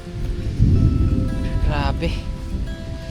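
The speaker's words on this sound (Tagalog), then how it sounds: "Biglang umulan." Sudden rain pattering on a tent during a bike camping trip in Tanay, a steady broadband hiss of drops close by, with a person briefly speaking over it.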